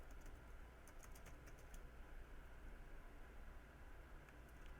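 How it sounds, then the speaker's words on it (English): Very faint, quiet tapping on a computer keyboard, a few short irregular clusters of keystrokes over a low steady hiss, with no talking. "Keyboard types."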